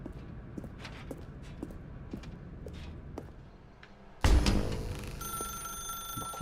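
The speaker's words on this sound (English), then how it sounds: "Now pick up the phone, said the bucket." In The Stanley Parable: Ultra Deluxe, a telephone rings with a sudden loud, steady electronic tone after soft scattered footsteps and clicks in a quiet room.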